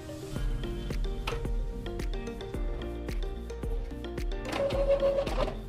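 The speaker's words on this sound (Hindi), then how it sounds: "और अभी इसका हम प्रिंट बटन दबा देते हैं" An Epson L3211 inkjet printer making a colour print, a steady mechanical whir with repeated clicks and stepping motor tones as the print head and paper feed move. Heard up close, with no speech.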